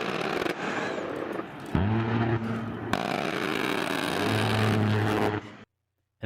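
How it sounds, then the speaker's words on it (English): A-10 Warthog's 30mm cannon firing in long bursts, a loud, low, guttural buzzing roar with a broad rumble, cutting off abruptly and echoing across open terrain before going silent. "It's the sound of a 30mm Freedom Cannon."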